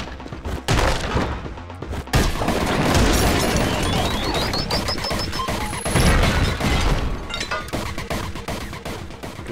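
Loud, rapid bursts of shotgun fire in the video game Anger Foot, repeated blasts and crashing impacts packed closely together, heavy and near throughout with no talking.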